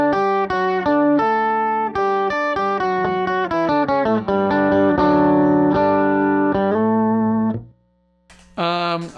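An electric guitar played through a POG octave pedal rings out in a run of bright, thick stacked-octave notes and chords, loud and sustained before a short silence and a final strum.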